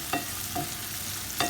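Chicken fajita ingredients stirred in a hot pan: three distinct scraping strokes of a utensil, roughly evenly spaced, over a steady close sizzle.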